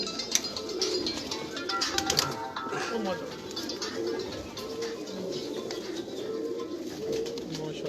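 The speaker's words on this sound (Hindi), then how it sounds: "ये जी एक और कबूतर आया है माशाल्लाह।" Pigeons cooing on a rooftop loft, a low murmuring coo repeated through the stretch alongside chirps and general bird chatter, with people talking nearby over the birds.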